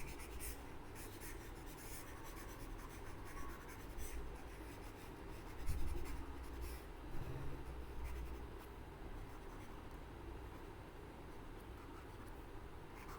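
Marker scraping across a board in a classroom chemistry lesson, a steady soft squeak and scratch running throughout at close range, with no talk over it.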